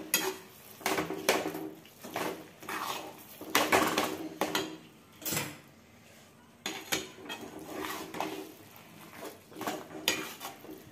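Pav bhaji being stirred in a pan, with repeated scraping and clanking strokes of a spoon against metal in an uneven rhythm, close and fairly loud, broken by a short pause midway, with no talking.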